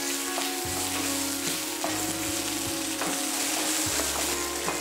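Ground mint and coriander chutney mixture sizzles in a hot pan as it is stirred, a steady, close frying hiss with repeated scraping strokes of a spoon and low clinks, no voices.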